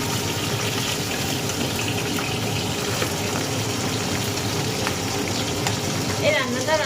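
Fish heads fry in hot oil, giving a constant close sizzle and crackle that stays even and loud from start to finish.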